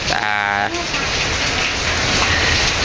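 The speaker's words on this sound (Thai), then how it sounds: "ฝนตกนัก" Heavy rain pours down in a dense, steady roar. A brief voice is heard at the start before the downpour fills the rest of the clip.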